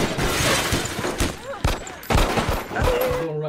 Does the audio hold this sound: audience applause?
no